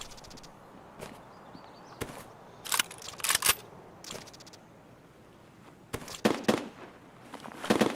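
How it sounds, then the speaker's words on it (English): Distant gunfire from up on a mountain in Escape From Tarkov: sharp, scattered cracks, some single and some in quick clusters, set apart by quiet gaps. "Someone is shooting nearby. No, that's not nearby. That's up on the mountain."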